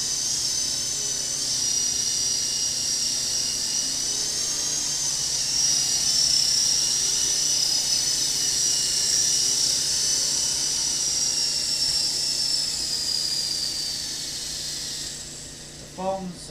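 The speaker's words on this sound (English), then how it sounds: "But the helicopter's flying really well now." Radio-controlled Intercepter 052 model helicopter in flight, a steady high-pitched electric whine with a whirring rotor, holding near-constant loudness for a long stretch before a few brief clicks at the end.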